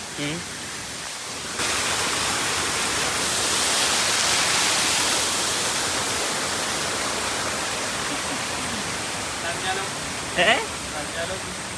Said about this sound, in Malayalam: ഇവിടെ തുടക്കത്തിൽ തന്നെ ചെറിയൊരു വെള്ളച്ചാട്ടം ഉണ്ട്